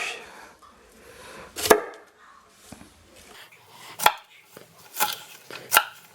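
A knife chops through ingredients for chicken fried rice on a cutting board, a few sharp, spaced knocks close by with quiet rustling in between.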